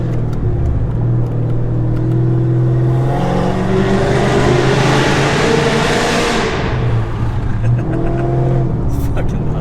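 Dodge Challenger R/T with a 5.7 Hemi, automatic transmission and Texas Speed Stage 3 tune, droning loudly through its exhaust while driving, the engine note rising and falling steadily and filling the whole stretch.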